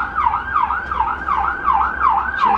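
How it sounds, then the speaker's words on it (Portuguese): A siren wails in the background, rising and falling in a steady repeating cycle of about two-fifths of a second, holding a moderate, even level throughout with no talking. "Sirenes ao fundo."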